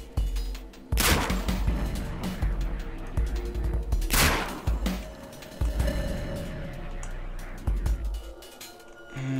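Gunfire in the video game Dead State comes as several loud, sharp shots and bursts spaced a few seconds apart, each with a booming low thud, over a quieter game background.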